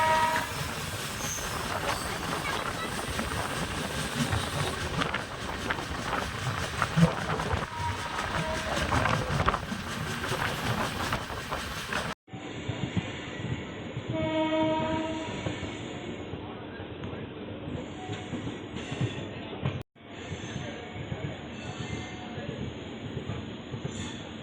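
The Pearl City Superfast Express (12694, Thoothukudi to Chennai) runs at speed, with loud, continuous rail rumble and wheel clatter, then a quieter rhythmic rolling with brief squeals.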